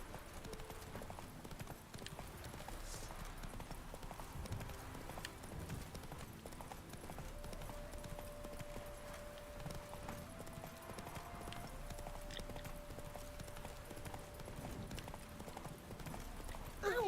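Horse hooves clip-clopping steadily in The Witcher 3, a continuous trotting rhythm under game music, with an occasional neigh and a louder clatter at the end.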